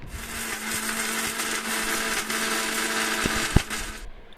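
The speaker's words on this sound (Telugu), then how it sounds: "వేయించుకొని ఒక మిక్సీ జార్లో వాటిని పొడి పట్టుకోవాలి" A mixer grinder jar grinds roasted dry coconut and dried red chillies into powder with a loud, continuous whir and rattle, then cuts off sharply near the end.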